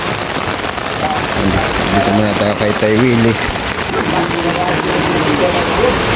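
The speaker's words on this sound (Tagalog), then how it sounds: "grabe ang ulan" Heavy typhoon rain drums steadily on a surface, loud and constant, while someone speaks briefly over it and a low engine hum rises and fades.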